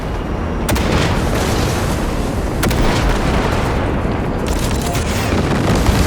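Explosions from enemy vehicles being shot in the Cyberpunk 2077 video game, a dense continuous roar of blasts with sharp bursts near 0.7 and 2.6 seconds, loud and without speech.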